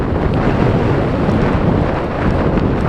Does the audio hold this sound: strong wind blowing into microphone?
yes